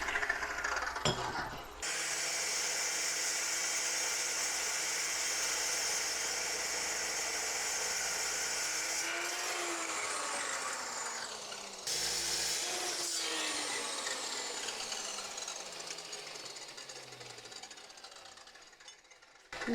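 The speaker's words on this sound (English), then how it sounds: "I'll take all those measurements over to the chop saw, cut them all out" A chop saw cutting steel pieces for a homemade trailer hitch, with a loud sustained metallic whine and grinding through long cuts, the pitch dipping as the blade bites and spins down between pieces.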